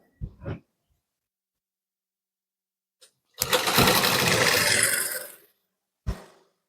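Sewing machine stitching a blouse, running in one continuous burst of about two seconds between short handling noises and long silences.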